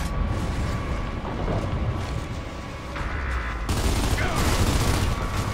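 Rapid automatic gunfire is aimed at a turret in the video game Gears of War: Judgment, forming a dense, continuous roar of shots with mechanical clatter and a louder burst near the end.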